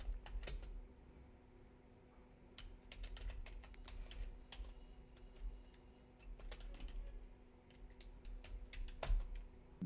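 Computer keyboard typing of a systemctl command on a Linux server, scattered bursts of soft close key clicks separated by pauses over a faint steady hum, quiet and without talk.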